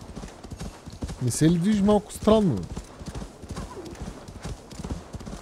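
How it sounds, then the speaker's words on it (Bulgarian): A horse gallops in Assassin's Creed Valhalla, steady hoofbeats drumming beneath a voice as he speaks, with a brief whinny-like cry near the start. "О, с коня ще."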